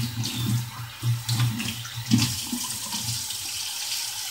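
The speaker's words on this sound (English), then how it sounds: "gonna wash my hands" Kitchen tap running while hands are washed under it, steady splashing water with uneven bursts as the hands move through the stream, close and without talk.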